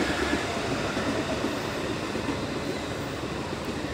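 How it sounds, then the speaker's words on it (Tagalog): A train pulls into a Tokyo station platform with a loud, dense rumble of wheels and carriages, steady throughout with faint high squeals above, and no voices heard. "sa dili magdugay maabot na ang train awa abot ang train"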